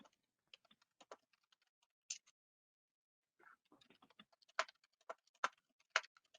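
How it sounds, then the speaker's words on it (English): Computer keyboard typing in a quiet room, sparse, faint irregular key clicks with a pause in the middle, then a quicker run of sharper taps. "I hear Jessica typing"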